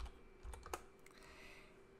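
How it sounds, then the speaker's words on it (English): Typing on a computer keyboard, a short, quiet run of soft key clicks over a faint hum, with no talking. "I'm going to type in fall leaves"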